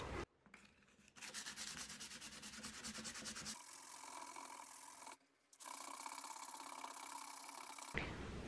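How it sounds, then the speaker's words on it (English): Handheld power sander working over a wooden top, a steady loud buzzing abrasive drone that runs continuously with a couple of brief pauses where it cuts off. "So I did end up having to take the hand sander to some of it"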